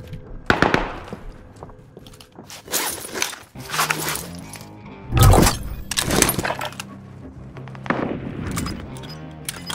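Bursts of gunfire from a Call of Duty: Warzone match on the Caldera map, in several loud clusters of rapid cracks across the span, with clattering gear sounds between shots.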